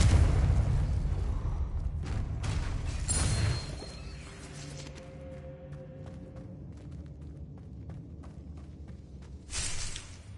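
Booming blasts and crashing impacts from Bombarda and Confringo spells in Hogwarts Legacy, loud and dense at first, then fading into a lingering rumble before one more burst near the end.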